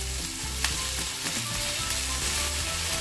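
Onions frying in a pan sizzle loudly and steadily as chopped tomatoes are added and stirred in, with scraping stir sounds over the continuous hiss; no one speaks.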